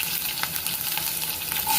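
Cumin crackles and sizzles continuously in hot oil, a dense close-up hiss with small pops throughout.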